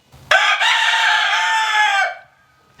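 A tailless homestead rooster gives one loud, close crow lasting nearly two seconds, then quiet follows.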